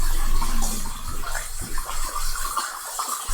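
Tap water runs steadily over fresh mushrooms being rinsed in a sink, a continuous close splashing stream.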